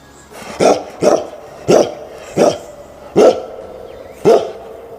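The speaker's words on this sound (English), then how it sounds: "D for dog." A dog barks six times at a steady, evenly spaced rhythm, each bark loud, sharp and close, with no talking over it.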